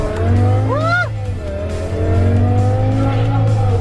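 A 550 hp sports car accelerates hard with a loud, close engine roar that climbs in pitch, and its tires give a brief squeal early on before the engine drone carries on steadily.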